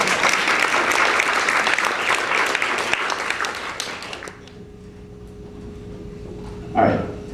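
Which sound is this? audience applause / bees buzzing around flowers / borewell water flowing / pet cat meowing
audience applause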